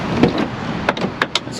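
Someone climbs back into a BMW car: a few close, sharp door and handling knocks and short rustles, no voice.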